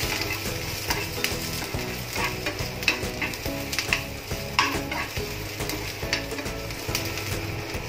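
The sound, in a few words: chana dal, garlic and ginger frying in oil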